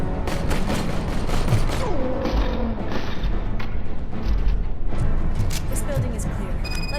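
Heavy machine gun fire in the video game Robocop Rogue City comes in bursts and booms alongside mechanical clanks and creaks. Someone talks over the gunfire.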